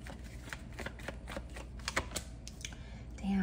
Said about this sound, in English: I'm just going to shuffle these very quick